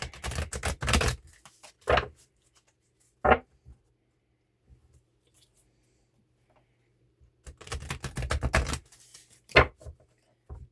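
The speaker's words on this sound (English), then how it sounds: "I guess I'll shuffle them first." Bursts of rapid, crisp flapping clatter come in short runs separated by quiet gaps, close by, like cards being riffled and bridged.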